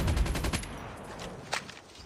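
Rapid automatic gunfire in Call of Duty Mobile, a dense burst of quick shots up front that tails off, followed by a single sharper report, all fairly loud and close.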